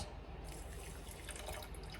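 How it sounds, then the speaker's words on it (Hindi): Room-temperature water, set aside that morning for tea, is poured over a spoonful of sugar, making a steady, soft trickle that runs unbroken for the whole stretch with no voices. "हमने थोड़ा सा पानी डाल देना"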